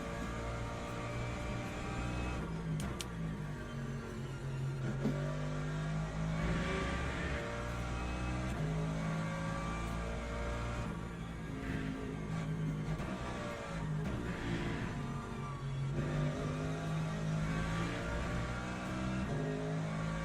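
Hypercar engines race at Imola in Le Mans Ultimate, a steady layered drone of high-revving motors with rising and falling pitch sweeps as cars pass, loud and continuous throughout with no voices.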